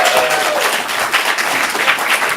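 Comedy club audience at a stand-up showcase applauding as a comedian is welcomed to the stage, a loud, continuous wash of clapping with a few faint cheers and voices.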